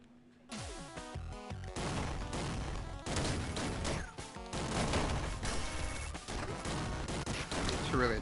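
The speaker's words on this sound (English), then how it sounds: "Rocket boots." Rapid bursts of rocket boots firing in the retro platformer Downwell, loud and nearly continuous, layered with dense game effects and music after a quiet start.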